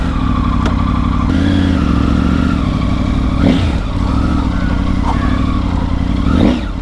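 A Triumph Tiger 900 Rally adventure motorcycle riding on sand in the Thar Desert makes a loud, steady engine drone throughout, swelling briefly with revs about halfway through and again near the end.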